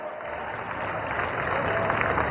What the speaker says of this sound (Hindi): जोरदार तालियों से आप सभी लोग अभिनंदन करें